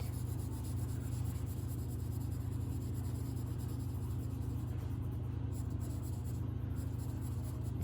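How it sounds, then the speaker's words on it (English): A pencil draws and shades on paper close up, producing a continuous soft scratching and rubbing that holds steady throughout, with a low background hum. "I love pencil work."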